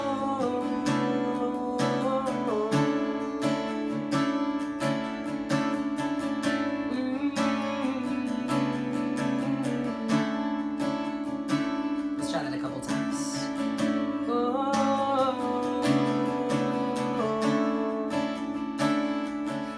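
Open guitar chords strummed steadily and ringing out, a full bright sound that continues throughout with no voices.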